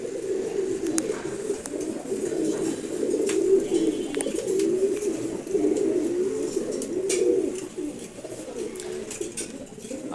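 A flock of domestic loft pigeons coos continuously in low, rolling murmurs, close and steady, with faint flutters and no talking.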